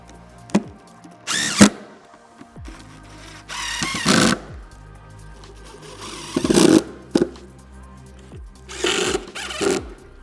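A cordless power drill drives screws into van racking shelves in a Transit Custom LWB crew cab, with about six separate whirring bursts broken by short pauses and small clunks.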